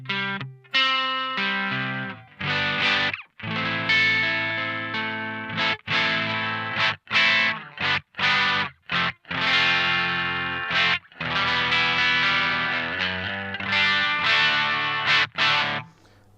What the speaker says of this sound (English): it does have a pretty good overdrive sound